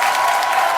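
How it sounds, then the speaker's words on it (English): Crowd applause and cheering from a live comedy-show audience, a loud, dense, steady wash of clapping filling the brief moment with no talk over it. "he gets a big pop from the crowd because it's true"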